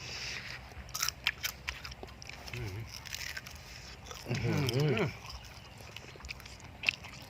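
Close, crisp crunching and chewing of a big fried scorpion, bursts of bites scattered across the moment, with talking heard in between.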